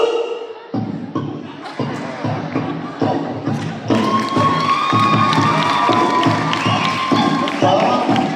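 A crowd cheering and shouting loudly at a fiesta, starting with rhythmic thuds and scattered voices, then swelling into a sustained roaring cheer with high children's shouts that fills the rest.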